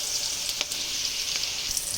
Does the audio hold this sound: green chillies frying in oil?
yes